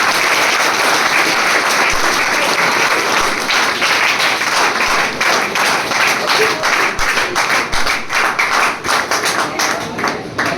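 Students in a coaching class applaud loudly, a dense steady clapping that grows more rhythmic and uneven toward the end.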